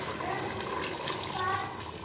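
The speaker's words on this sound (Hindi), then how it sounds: "1/2 ब्लेंडर वाला जग जो है पानी ऐड कर लेना है गोश्त को गलाने के लिए" Water pours into a cooking pot of meat being stewed with tomato paste, a steady broadband splash and gush running continuously and fairly loud for about two seconds, with no talking over it.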